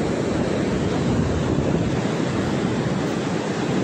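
Ocean surf at Morjim beach in Goa roars continuously at sunset, a dense, steady wash of breaking waves with heavy wind buffeting the microphone and no voices.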